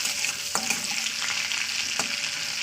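A halved dried red chilli fries in hot oil with a steady crackling sizzle, and a couple of sharp spoon scrapes stand out, close and fairly loud with no voices.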